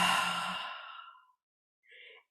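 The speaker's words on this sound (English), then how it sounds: "do that deep exhale 3 times" A deep, long exhale during a breathing exercise, breathy and close, fading out over about a second, followed by a short soft breath sound after a pause.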